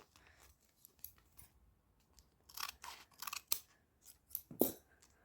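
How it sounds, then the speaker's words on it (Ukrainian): Quiet scattered snips and crinkles of scissors cutting through a plastic packet, a few sharper cuts clustered near the end. "Давайте його відріжемо."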